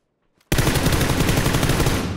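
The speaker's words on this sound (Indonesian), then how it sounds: "Tadi ada suara nembak di sini" Rapid automatic gunfire erupts in PUBG Battlegrounds after a brief near-silence, a dense, loud, sustained burst of shots that holds steady through to the end.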